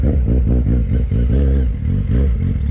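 A Kawasaki Z750 motorcycle accelerates hard, its engine roaring loud and close. The pitch pulses up and down as the revs climb through the gears in a continuous, throaty drone.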